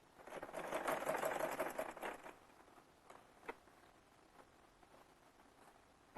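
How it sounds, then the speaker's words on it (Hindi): A sewing machine runs a quick burst of rapid, even stitching as piping goes onto a Rajasthani kurti, then stops, leaving a quiet room with a couple of faint clicks. "यहाँ से इस तरह सिलाई लगा लूंगी"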